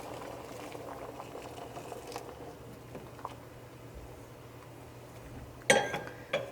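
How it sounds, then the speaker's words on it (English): Boiling chicken broth is poured into a pot of rice with pigeon peas, a soft bubbling, liquid patter with light clinks, ending in a sharper splash and clatter near the close. "I'm going to add 5 cups of boiling chicken broth."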